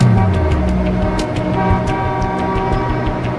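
Heavy American commuter traffic in gridlock, a dense, continuous roar of many vehicles with scattered short car-horn toots rising above it throughout.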